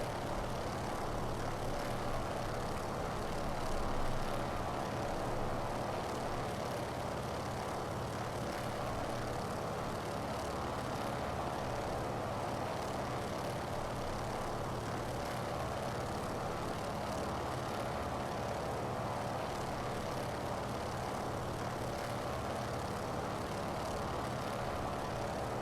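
Large aircraft engines drone steadily in flight in Microsoft Flight Simulator, a constant broadband roar at an even, moderate level with no voices.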